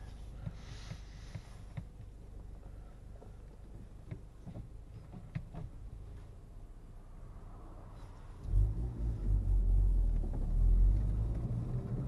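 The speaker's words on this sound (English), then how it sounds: "there's a car coming" A steady low rumble sits under faint ticking and movement, then a car swells in closer along the road, its engine and road noise growing louder near the end.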